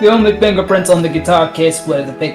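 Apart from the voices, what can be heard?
No everyday noises stand out.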